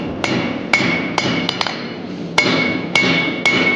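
Blacksmith's hammer forging metal at an anvil, a series of sharp ringing metallic strikes at irregular intervals with a steady hum of workshop background between blows.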